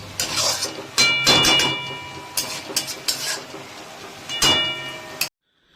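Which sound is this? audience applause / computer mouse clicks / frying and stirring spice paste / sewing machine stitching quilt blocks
frying and stirring spice paste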